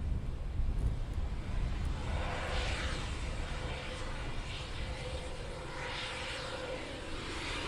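An aircraft at RAF Coningsby takes off and climbs straight up, its engine roar broad and distant, steady and washing through the air with a soft breeze-like rush and no voices.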